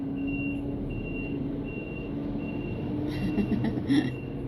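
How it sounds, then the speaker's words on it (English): A truck's reversing beeper sounds in steady, evenly spaced beeps over low engine rumble and street noise, moderately distant. "Excuse the beeping truck going up the street."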